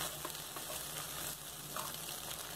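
Prawn fried rice sizzles steadily in a hot pan, a continuous loud frying hiss with faint scraping as it is stirred.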